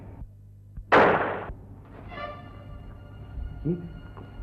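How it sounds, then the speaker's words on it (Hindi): A single sharp gunshot fired from outside a house cracks loudly and rings off briefly, set against quiet room tone with faint movement and a brief murmur afterward. "अरे अंकल, अभी किसी ने बाहर से फायर किया है।"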